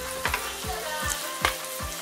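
Onions fry to caramelize in a pan, with a soft, continuous sizzle and a few light stirring taps.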